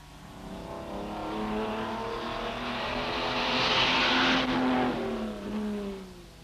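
A 1964 Tour Auto rally car, a Ford Mustang among Renault Alpines, roars past with a rising and falling engine note, swelling to a loud pass before fading, with no voices.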